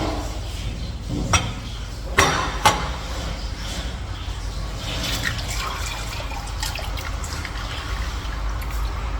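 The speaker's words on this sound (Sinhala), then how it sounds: "ගයිස් අපි මේ සීනි පැණි එක මේ බෝල් එකට දාගමු." Hot sugar syrup for caramel pudding is poured from a pan into a bowl as a quiet trickle and drip, punctuated by a few sharp clinks of utensil against the container early on.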